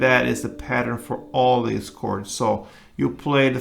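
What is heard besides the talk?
No everyday noise stands out behind the speech.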